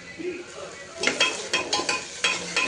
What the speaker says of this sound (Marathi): त्याच्यामध्ये टाकू लसूण आल्याची पेस्ट